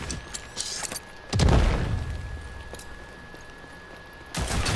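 Burst-fire gun in the shooter game Rogue Company: a few sharp shots punch out mid-clip with booming low end, followed by a brief decaying tail and a later short burst, all fairly close with no talking over it.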